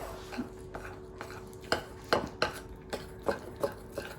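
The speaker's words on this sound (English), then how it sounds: "I think I just have to be patient and keep stirring." Spoon stirring a thick powdered sugar glaze in a bowl, a steady series of soft scraping strokes about three per second, close and clear with no talk.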